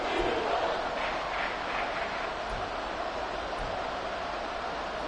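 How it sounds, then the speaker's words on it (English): A football stadium crowd roars late in the fourth quarter, a loud, steady wash of noise meant to force a false start on third and inches. "this crowd trying to force a false start here"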